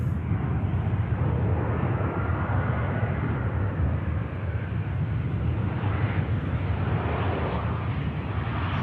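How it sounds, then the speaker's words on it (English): An EasyJet airliner landing at Manchester Airport, giving a loud, continuous jet rumble and rushing noise that holds steady throughout, with a brief dip partway. "Few adjustments on the touchdown from the EasyJet."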